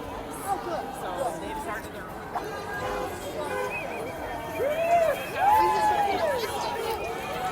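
A dense crowd at the 'No Kings III' street protest in downtown Grand Rapids, Michigan, chatters in a steady babble of overlapping voices. Nearby voices rise and fall prominently above the general hubbub.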